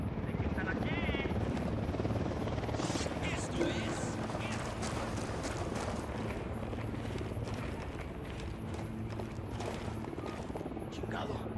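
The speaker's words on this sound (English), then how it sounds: "Hit the dirt, helicopter." Helicopter in the Ghost Recon Wildlands video game, a loud, continuous rotor drone with rhythmic blade thumping, close and sustained, with scattered game effects and brief speech over it.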